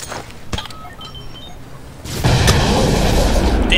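Thrown grenades go off in Splinter Cell: Blacklist. A sharp thump comes first, then a loud, broad blast that rolls on to the end, with no talk.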